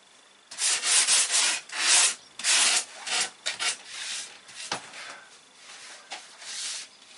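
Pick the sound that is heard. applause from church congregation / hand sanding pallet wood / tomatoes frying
hand sanding pallet wood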